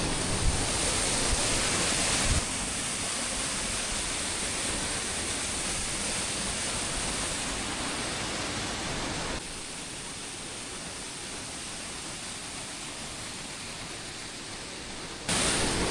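A steady, loud rush of a mountain forest waterfall fills the air as a continuous roar, unchanging apart from slight shifts in level.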